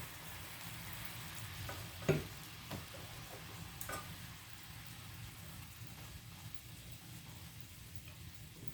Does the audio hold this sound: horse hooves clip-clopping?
no